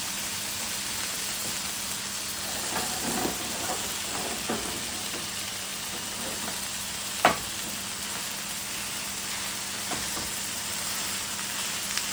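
Sausage patties fry in a pan, a constant even sizzle with a few soft scrapes and one sharp clink, no talking.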